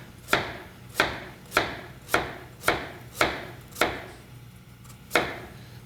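A knife slices through potatoes for a root vegetable au gratin, eight crisp cuts landing on a board at a steady, roughly even pace, close and distinct.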